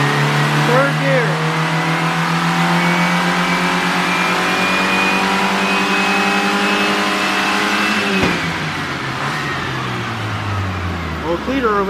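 A 1986 Plymouth Voyager with a 2.2 liter engine revs hard on a dyno in a third gear pull, a loud steady engine tone climbing for about eight seconds before cutting off and winding down.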